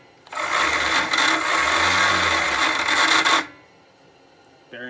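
Electric starter cranking a 1959 Gravely engine with badly worn, noisy bearings: a loud rough whirring grind for about three seconds, then it stops abruptly, leaving a quiet background.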